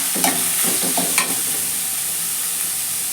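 Onions and ginger-garlic paste with fennel powder fry in a pan for salna, a steady broadband sizzle with a few clinking stirs of a spoon near the start, then an even hiss alone.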